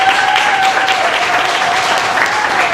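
An audience applauds a performer at a live music event in Hyde Park. The clapping is dense and sustained, loud and even throughout, with no talk over it.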